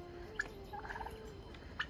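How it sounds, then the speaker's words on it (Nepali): A turkey gobbles faintly while walking around a Nepali village, producing a brief warbling burst between a few short sharp calls, distant and quiet over low background noise, with no talk. "टर्की कराउँदै हिँड्दै गरे"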